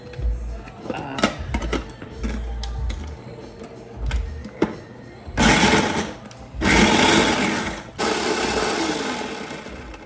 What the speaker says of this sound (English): let me remember how to work my food processor